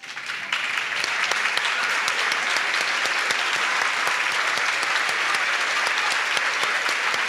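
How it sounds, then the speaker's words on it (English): A large audience claps steadily at an elementary school graduation ceremony, honoring graduating parents; dense, even applause begins after a brief moment and continues unbroken, moderately loud and somewhat distant. "could you please stand so we can give you a round of applause?"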